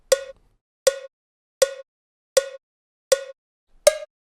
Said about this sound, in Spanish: cuando activan el metrónomo, se van a dar cuenta que el primer golpe suena como ligeramente más fuerte